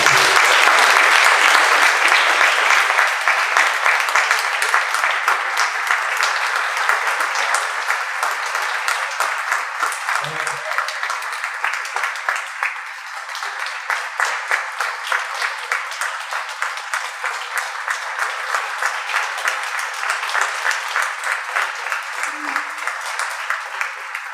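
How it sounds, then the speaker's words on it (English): Guests at a retirement celebration applaud warmly, starting loud and full, then thinning into a looser, gradually fading patter of individual claps, with a brief voice breaking through partway. "A round of applause for that."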